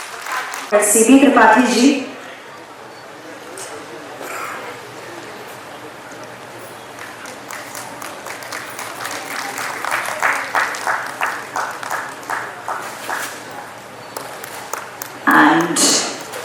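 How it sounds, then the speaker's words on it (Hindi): Audience applause for the guest of honour at a formal ceremony, with an MC speaking over the start and end while a sustained clapping crowd builds in the middle and swells toward the close. "जोरदार तालियां एवरीवन"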